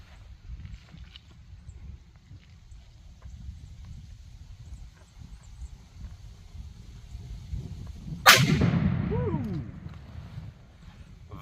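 A single-action revolver fires one .500 Bushwhacker Black Talon round in a sharp, violent blast that booms and rumbles as it fades, after a quiet outdoor wait.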